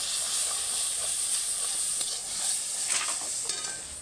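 Taro pieces fry in a pan, giving a continuous bright sizzle and hiss with faint stirring scrapes, steady and close, with no one talking.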